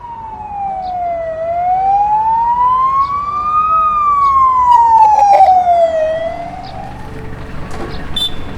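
A loud ambulance siren wails on its own, sweeping slowly up and down in long, smooth rises and falls.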